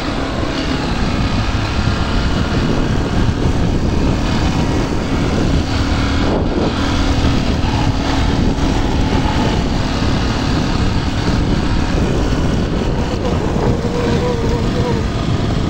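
A loud engine drones steadily throughout with wind buffeting, like riding on a motorbike, with a voice faintly underneath.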